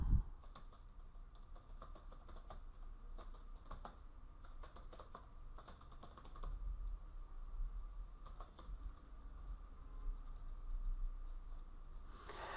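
Close, quiet typing on a computer keyboard, with irregular clusters of sharp key clicks separated by short pauses and a faint background hum, no one speaking.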